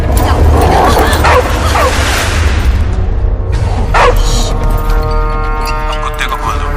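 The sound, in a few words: dog barking and whimpering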